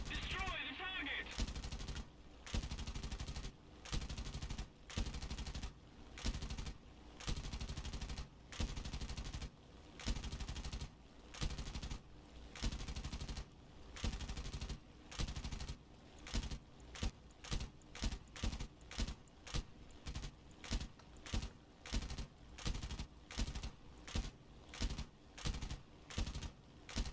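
Rapid machine gun fire from a B-17 bomber's defensive guns in the video game War Thunder, long rattling bursts separated by brief pauses, growing choppier and shorter toward the end over a steady engine drone.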